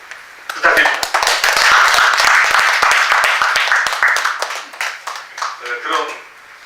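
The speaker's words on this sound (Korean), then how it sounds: "박수 부탁드립니다." Audience applause at a Korean lecture event, a dense burst of clapping that swells quickly, holds, then thins out, with a voice speaking under it near the end.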